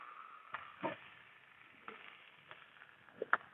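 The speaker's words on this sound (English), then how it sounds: "That's sizzling away, doing its thing, working its magic." Faint, soft sizzling of steak crackles quietly in a pan, with a few sharper pops and spits scattered through the steady hiss.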